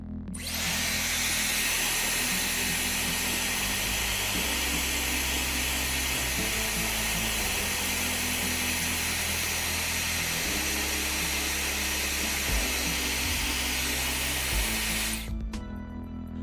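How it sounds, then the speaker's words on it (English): A regular hair dryer blows continuously at close range on an Apple Watch Series 7 display, a loud steady hiss with a droning motor hum that shifts pitch slightly, then cuts off. "warm up the surface of the display with a regular hairdryer"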